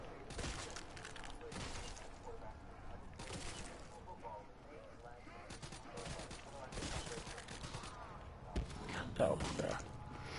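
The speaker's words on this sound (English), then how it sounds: "It's firecrackers." Firecrackers going off in a video game, a scattered series of sharp pops and crackles spread through the whole stretch, with a person talking over them.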